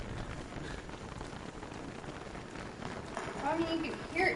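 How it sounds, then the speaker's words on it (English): Heavy rain in the survival game Don't Starve Reign of Giants patters steadily on the ground as a constant, papery hiss. A voice talks over it now and then. "Why is it raining so hard?"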